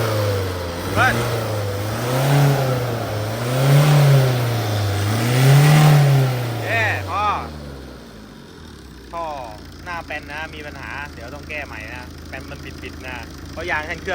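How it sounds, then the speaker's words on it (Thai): A car that had trouble starting and knocks loudly revs in several rising and falling swells right after firing up, then settles to a rough idle while someone talks close by. "เครื่องติดนะลากยาวหน่อย เดี๋ยวมาดูลองเบิ้ลดู"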